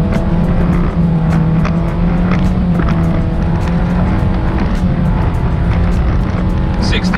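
A 2019 Nissan Versa SV sedan accelerates at full throttle, its engine a loud, steady drone with a sustained rising hum from start to finish and no talking.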